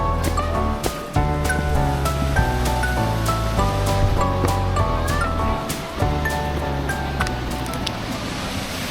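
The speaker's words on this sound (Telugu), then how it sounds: "పైనుంచి వాటర్ ఫాల్స్ నుంచి వచ్చే వాటర్ అంతా ఇలా వాగులాగా కిందికి వెళ్ళిపోతుంటుంది" Water from Jogini Waterfall near Manali rushes down a rocky mountain stream in a steady broad roar, partly under music playing over it.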